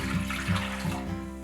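Four cups of chicken broth poured into a pot for pulled pork, making a steady, continuous liquid splash and gurgle for about a second and a half, close and fairly loud, with no voices.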